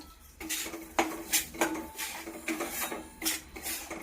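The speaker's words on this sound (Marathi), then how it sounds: "बघा चांगलं असं हलवायचं ना तुपात" Roasted wheat flour being stirred into ghee in a pan for atta halwa, with a spoon scraping and knocking against the metal in repeated close, uneven strokes.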